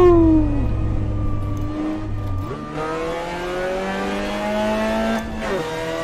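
A Mazda MX-5 lapping Sepang Circuit, its engine note loud and close, revving steadily through the gears with rising and falling pitch as it shifts, racing on without pause.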